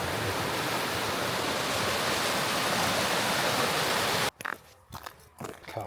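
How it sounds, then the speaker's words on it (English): Water rushes loud and close beside an icy Alaskan mountain trail, a dense roaring wash that cuts off suddenly near the end, leaving quieter scattered rustling. "The water is flowing."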